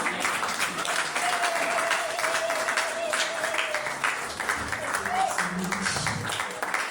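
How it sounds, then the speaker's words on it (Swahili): A church congregation applauds the preacher after her sermon, steady moderate clapping that runs throughout at a middle distance. "makofi yanatosha kweli"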